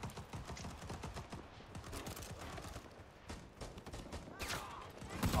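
Rapid bursts of suppressing gunfire crackle in Rising Storm 2: Vietnam, a dense, continuous fusillade of overlapping shots at mid distance, fairly faint in level and sustained throughout with no pause.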